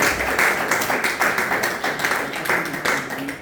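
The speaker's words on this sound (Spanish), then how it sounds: "Denle un aplauso al Señor por eso." Church congregation clapping for God during a Spanish-language sermon, a dense, steady patter of many hands filling the room throughout with a few voices mixed in.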